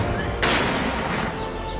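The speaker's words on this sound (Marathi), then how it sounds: "लष्करानं रावत यांना 17 तोफांची सलामी दिली." A single heavy cannon boom from an army 17-gun salute at a military funeral strikes abruptly and loudly over a steady outdoor background, then rings out and fades.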